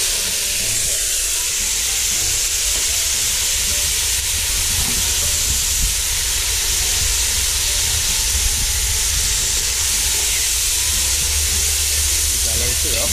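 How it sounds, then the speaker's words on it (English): Curry crab ingredients frying in hot oil, a loud, continuous sizzle and hiss that holds steady throughout without pause. "After the oil, we're gonna add all this to fry up."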